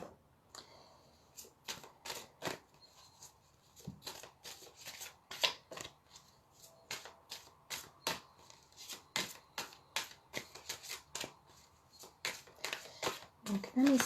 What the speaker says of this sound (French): Je vais donc tirer une carte pour les énergies de la semaine.